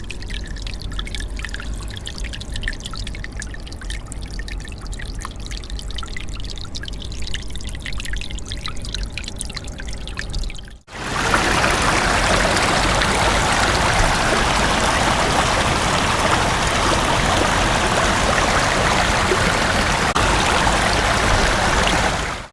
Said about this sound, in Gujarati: તમને આનો અવાજ સંભળાવું કે પાણીનો અવાજ કેવો રેકોર્ડ થાય છે